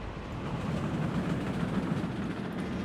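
Train in the city-building game Workers & Resources: Soviet Republic, a steady low rumble of rolling wagons with faint rhythmic clatter, moderately quiet and continuous, with no voices.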